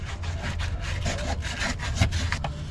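A brass fuel cell fitting is deburred by hand with a file, giving quick rhythmic scraping strokes, close and fairly loud, about a dozen rasps in a steady back-and-forth rhythm with no talking.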